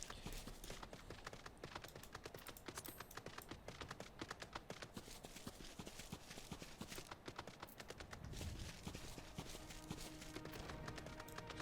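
Horse hooves clip-clopping in Final Fantasy 14 on a grassy steppe, a steady rapid patter under continuous game music, moderately loud and unbroken throughout.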